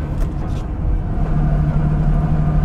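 A 1967 Lamborghini Miura drives along with a steady, rough, agricultural engine drone and low rumble, loud and close from inside the cabin.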